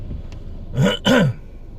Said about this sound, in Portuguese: Agora me deu acesso de tosse quando vinha vindo com o passageiro aqui.